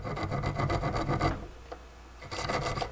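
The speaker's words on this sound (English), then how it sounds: "So now I'm gonna file some edges on the outside of this bearing." A file rasps against the outside edge of a hardened steel bearing in rapid back-and-forth strokes, loud and close, then pauses briefly before the strokes resume.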